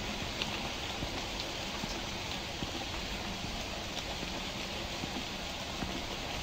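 Rain ambience in the video game The Convenience Store, a continuous even hiss of falling rain with faint scattered drop taps, steady and fairly loud.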